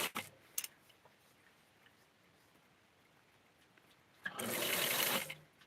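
Faint room tone broken by a couple of short bursts, then a loud, steady run of a sewing machine stitching ruffle lace for a Barbie doll dress, buzzing for about a second before stopping.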